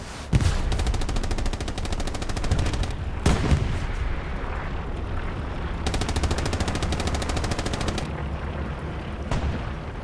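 Rapid bursts of gunfire fill a night battle in Hell Let Loose on the Kharkov map, with dense repeated shots in several long stretches over a constant rumble of distant combat.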